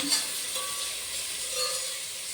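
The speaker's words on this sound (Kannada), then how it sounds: "ಈಗ ಇದಕ್ಕೆ ಶುಂಠಿ ಬೆಳ್ಳುಳ್ಳಿ ಪೇಸ್ಟ್ ಹಾಕ್ಕೊಳ್ಳೋಣ" Ginger garlic paste going into onions frying in a pot gives a steady, close sizzle, with a faint scrape or two of stirring near the start and middle and no talking.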